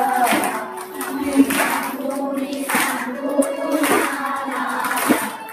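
Audience at a Bhagavat katha clapping along in rhythm, steady repeated claps over a background of singing and voices.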